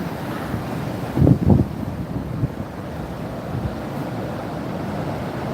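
Steady wind buffeting the microphone over waves washing along the Buffalo, New York shoreline at night, a continuous low roar with a couple of brief louder gusts and no voices.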